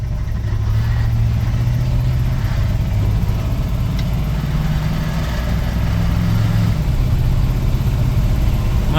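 Steady idle of a 1986 Ford F250 farm truck engine after a carburetor adjustment, a loud, continuous low rumble running unbroken and even close by throughout.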